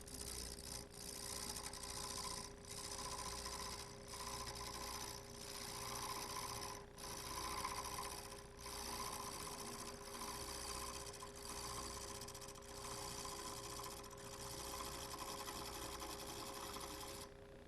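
A wood lathe turns an inside-out candlestick while a skew chisel cuts the slightly flexing workpiece, producing a close, steady whir with a fast, even pulsing chatter throughout.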